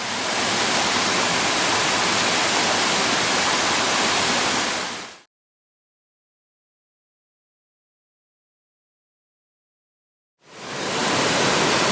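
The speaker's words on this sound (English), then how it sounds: "really pretty waterfall called Barrajam Falls on a feeder creek" Barrajam Falls, a waterfall on a Queensland feeder creek, gives a steady, loud broadband rush of falling water that cuts to silence midway and then resumes.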